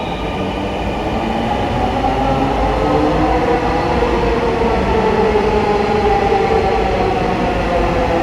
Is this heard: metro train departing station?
yes